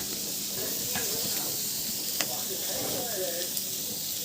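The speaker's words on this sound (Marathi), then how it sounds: "आमच्या इथे बघा कांदा भाजते" An onion roasts on a home stove, a steady hiss and sizzle with scattered faint crackles and ticks, heard as a continuous background wash.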